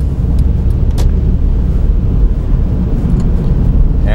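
A car speeds up while changing across several lanes of traffic, its engine and road noise a loud, steady drone from inside the cabin.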